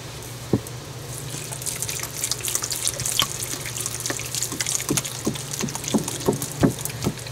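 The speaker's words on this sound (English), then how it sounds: "Let me get some more water real quick." Tap water running into a container while making wild dandelion honey, a continuous splashing stream with scattered drips and clinks, close and moderately quiet.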